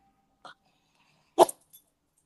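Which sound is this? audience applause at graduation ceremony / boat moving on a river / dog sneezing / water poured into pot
dog sneezing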